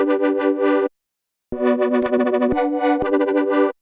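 A buzzy synth lead plays short notes with a wobbling, sweeping brightness, stopping briefly before resuming with a choppier rhythm.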